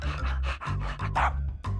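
A dog panting in a French-language video game, rapid rhythmic breaths close and fairly loud over a steady low musical drone, with no talk.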